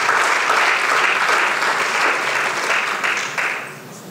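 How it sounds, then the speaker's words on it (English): A university audience at a graduate students' association event applauds its leadership, with loud, close, even clapping from many hands that fades over the final second. "I think they deserve another big round of applause."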